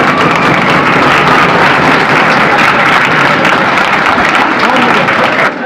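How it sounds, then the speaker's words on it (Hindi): Loud, continuous clapping from a group of academy children carries on steadily without a break, close and energetic throughout. "तालियां रुकनी नहीं चाहिए, जोर से और जोर से और जोर से"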